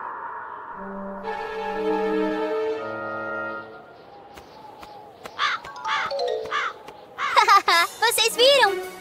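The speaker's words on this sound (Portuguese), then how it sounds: "Era só um pássaro." A cartoon bird caws in a few short, bright calls near the end, after a stretch of children's voices and a sustained musical tone, with voices chattering around the calls.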